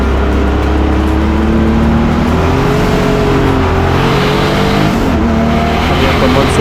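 A rear-wheel-drive BMW E36 Turbo race car laps a wet circuit at Killarney International Raceway, its engine droning loud and steady with shifting pitch as it accelerates, tyres hissing on the damp track.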